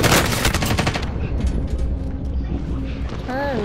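Rapid video-game gunfire rattles in fast bursts aimed at the player, loud and close at first and then thinning into scattered shots over a constant background din, with a voice rising near the end.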